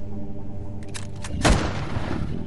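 A single gunshot booms in the video game Last Day on Earth, one sharp loud report over a steady game background.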